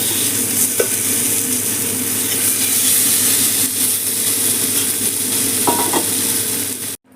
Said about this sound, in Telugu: మిగిలిన ఈ పీసులు కూడా ఇదే విధంగా మనము ఫ్రై చేసుకోవడం